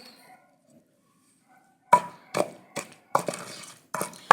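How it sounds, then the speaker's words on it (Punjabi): Onion, tomato, green chili and garlic pounded into a masala in a village-style Punjabi kitchen: after near silence, a series of about eight sharp, close thuds in an irregular rhythm. "ਇਹ ਮਸਾਲਾ ਆਪਾਂ ਚੰਗੀ ਤਰ੍ਹਾਂ ਕੁੱਟਾਂਗੇ"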